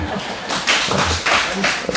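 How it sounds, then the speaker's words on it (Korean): An audience clapping during a church gathering, a brief burst of several hands with uneven slaps that swell and fade over a couple of seconds, close by and mixed with some talking. "박수 좀 쳐주세요."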